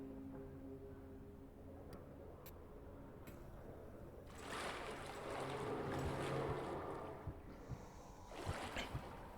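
Wading footsteps sloshing through water in the horror game Amnesia: The Bunker, a quiet hum at first, then a swell of splashing and churning water midway, with a few sharp sloshes near the end.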